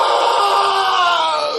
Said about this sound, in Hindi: तभी देशराज डर के मारे चिल्लाता है।